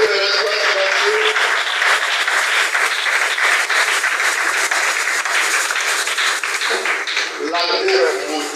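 A church congregation claps and cheers in loud, sustained applause acclaiming Jesus Christ, a dense wash of hands with voices rising through it and a louder shout near the end.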